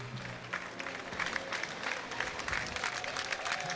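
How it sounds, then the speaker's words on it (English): Spectators lining a 1997 festival parade route clap in a steady patter of applause, mid-distance and moderately loud, with scattered crowd noise mixed in. "the people along the parade route respond and clap and cheer"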